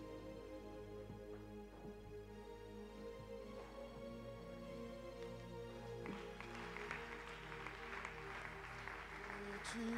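Church congregation applauding and acclaiming God after a French sermon, steady clapping from many hands at moderate distance, swelling louder toward the end with faint voices mixed in.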